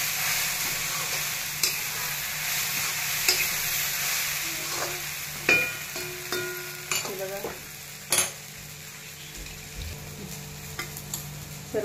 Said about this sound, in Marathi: आता आपण आमटीला फोडणी देऊन घेऊया